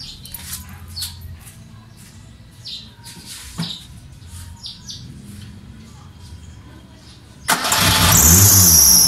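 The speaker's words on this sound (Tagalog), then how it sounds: "Tignan natin ngayon guys kung mapapastart na natin yung ating makina." Quiet background with birds chirping and a few faint noises, then a car engine fitted with a fingerprint anti-theft starter cranks and fires up loudly near the end, settling into a running roar.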